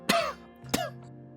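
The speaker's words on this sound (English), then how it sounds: "You cough as a small cloud of dust rises up from the mattress." A character's cough in the video game Scarlet Hollow, caused by dust rising from an old mattress: two short, close coughs roughly half a second apart, alone with a faint background hum.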